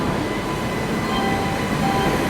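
The Sealdah Bikaner Duronto Express pulls out of New Delhi railway station after a five-minute halt, a steady, loud rumble of moving coaches with no break in the noise.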